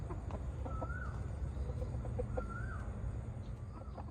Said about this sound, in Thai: ไก่โจนครับไก่ตัวผู้ครับ